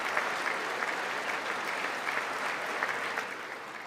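Members of Congress applaud during a State of the Union address, a broad, steady wash of clapping that fills the hall at even loudness throughout.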